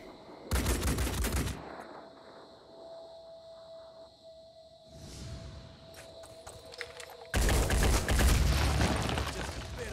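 Loud video game gunfire in Phoenix Point comes in two heavy bursts, an early one and a longer one near the end, separated by a quieter stretch with a hum and a brief rushing sound.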